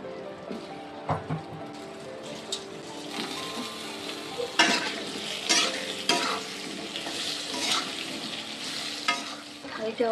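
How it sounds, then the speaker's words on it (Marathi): Potatoes fry in spice masala after a mustard seed, cumin and curry leaf tempering, a steady close sizzle broken by repeated scraping and clanking of a spoon stirring the pan. "आता आपण ना त्याच मसाल्यामध्ये बटाटा फ्राय करूया"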